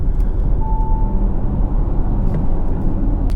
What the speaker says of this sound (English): no engine clatter, only the sound from the motors.